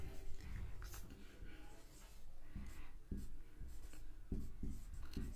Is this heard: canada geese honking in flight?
no